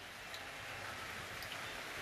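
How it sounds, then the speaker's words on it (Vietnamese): Steady rain falls outdoors, a continuous hiss of drops with faint scattered pattering, moderately loud and without any voices. "Ôi trời mưa các bạn ơi."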